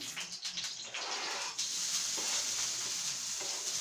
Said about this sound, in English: in my pan I will add a little bit of oil, and then I will add my green onion